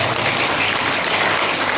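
Dense applause fills a school hall during a student talent event at a senior high school in Tanjungpinang, steady and close throughout the short stretch, with no talk over it.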